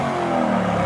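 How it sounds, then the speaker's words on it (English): Lamborghini truck engine revving: a steady, loud, mid-pitched roar held close for under a second, with no talking. "Rev it. Give it to me."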